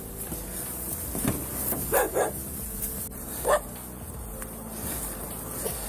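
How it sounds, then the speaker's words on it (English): A dog barks relentlessly at police officers at a crime scene where a burned body lies, giving a handful of short, sharp barks spaced a second or so apart, moderately loud over steady outdoor background noise. "a dog barked relentlessly at the officers as they examined a burned body"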